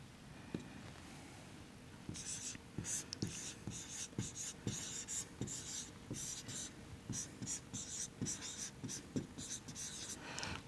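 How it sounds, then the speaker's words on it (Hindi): A pen or chalk scratches across a board during an equipment management lecture, in a run of quick, quiet strokes that repeat in a steady rhythm. "दोबारा लिखते हैं,"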